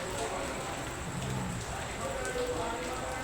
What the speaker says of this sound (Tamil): இவ்வளோ மழை பெய்யுது பாருங்கள்.